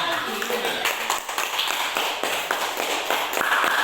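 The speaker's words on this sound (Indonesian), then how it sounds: "Oke, tepuk tangan dulu kita." Classroom group clapping after a student presentation, a dense burst of many hands lasting a few seconds with scattered louder taps.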